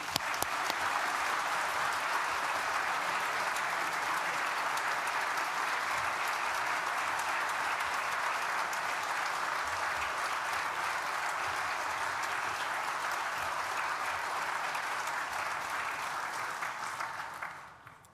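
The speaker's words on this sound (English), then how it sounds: "a huge round of applause to our friends, family, and partners that have supported and guided us" A graduation ceremony audience for architecture, design and the built environment graduates gives sustained, even applause for friends, family and partners. The clapping stays dense and steady for about seventeen seconds before fading at the end.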